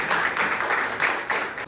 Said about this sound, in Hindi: जोरदार तालियों से एक बार स्वागत करेंगे उनका।